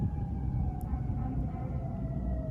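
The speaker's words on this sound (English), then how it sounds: "obnoxious cars and sirens" Busy street traffic rumbles steadily while a siren's tone wails faintly in the distance throughout.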